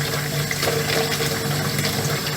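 Water mixed with air rushes and sputters through a water heater's flexible hose, a loud, continuous gurgling hiss that stays steady throughout with no voices.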